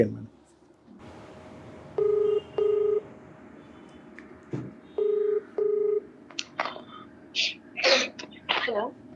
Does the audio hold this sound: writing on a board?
no